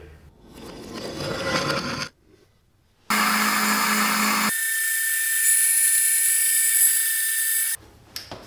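A chop saw bites into 2-inch thick-walled steel tubing: a rough grinding cut, a short pause, then a loud, sustained high-pitched metallic whine for about five seconds before it abruptly stops.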